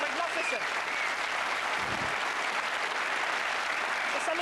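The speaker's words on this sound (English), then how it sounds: "Come on, a wee round of applause for that." A studio audience on a Scottish football chat show gives a round of applause, a steady, continuous wash of clapping that runs throughout, with a voice talking over it.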